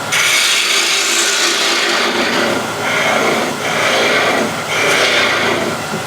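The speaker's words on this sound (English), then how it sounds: "And now we can hollow out the inside." A ball gouge hollows out the inside of a turned wooden box, making a loud, continuous rough scraping that swells and eases in a few waves, close up with no talk.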